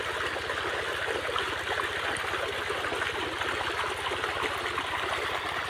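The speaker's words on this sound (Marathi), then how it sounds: "हे इथं पाणी सोडलं आहे, डायरेक्ट पाटच टिकत नाही, एवढा प्रेशर आहे" Irrigation water released under strong pressure rushes through a wide field channel beside wheat. The flow is a steady, close, full rush over a low rhythmic throb, with no talking.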